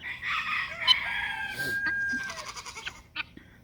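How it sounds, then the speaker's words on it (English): Chickens cluck and a rooster crows in a farm pen shared with goats, the crow rising near the middle amid scattered clucks and squawks, fairly close with some background rustle. "there's chickens in there"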